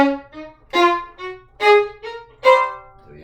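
Violin playing alternating bow strokes, a strong up bow followed by a light, sneaky down bow, heard as several separate bowed notes, each with a firm attack, some louder and some softer, close and alone.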